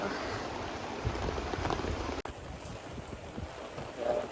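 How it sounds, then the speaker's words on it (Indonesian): Steady rain pours down at Kasap beach in Pacitan, a dense continuous hiss close by, with a sudden brief dropout midway before the downpour resumes. "cuaca hari ini hujan"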